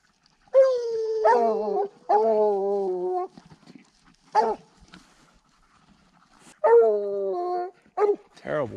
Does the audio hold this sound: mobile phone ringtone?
no